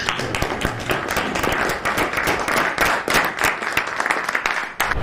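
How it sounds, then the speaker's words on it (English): Dense, continuous crowd applause at a live podcast show, steady and fairly loud for the whole stretch with scattered sharp individual claps and no clear speech over it. "The applause is amazing."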